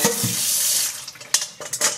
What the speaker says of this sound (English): I wash them just very, very quickly, because now the fruit is open.